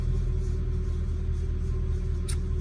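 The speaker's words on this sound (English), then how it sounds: "So it seems to be if you reset the gearbox, that went into reverse then." Mercedes E55 AMG with a slipping automatic transmission engaging reverse: a steady low engine rumble at idle, close and loud, with a brief faint clunk near the end and no talk.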